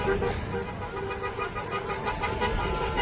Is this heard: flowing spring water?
no